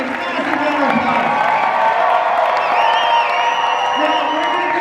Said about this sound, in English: give a huge round of applause everybody for Ross and Cooper